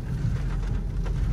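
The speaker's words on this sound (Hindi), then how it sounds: "बारिश हो गई है तेज" Heavy rain pounds steadily around a car driving slowly through an industrial area of Sharjah, a dense continuous wash with low rumbling thunder underneath; no one speaks.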